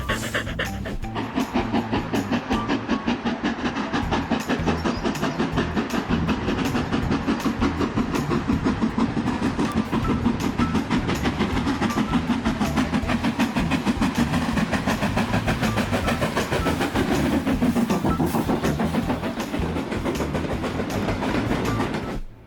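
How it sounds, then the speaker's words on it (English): A steam locomotive chuffs hard and fast in a loud, continuous rhythmic exhaust, close and powerful, with steady mechanical clatter running underneath for the whole stretch. "this might be the most real steam engine sound I've ever heard"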